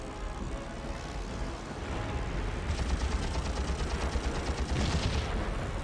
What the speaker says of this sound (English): just keep going around strafing the landing craft